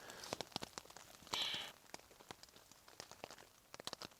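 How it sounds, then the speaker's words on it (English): Scattered raindrops tap and patter on a taut tarp nearby at a wild camp, irregular close hits with a brief louder rustle partway through. "As you can hear, it's raining at the moment."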